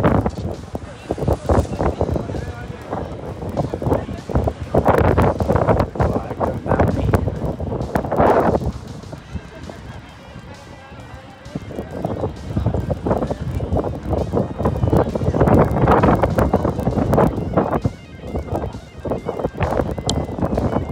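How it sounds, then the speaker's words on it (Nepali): Strong wind buffets the microphone in loud, continuous gusts, roaring and rumbling throughout with brief lulls, while a voice talks underneath. "एकदमै खतरा हावा चल्दो रहेछ सधैँ फोनै उडाउला जस्तो भयो"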